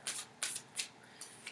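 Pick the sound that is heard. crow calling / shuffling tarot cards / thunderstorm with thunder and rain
shuffling tarot cards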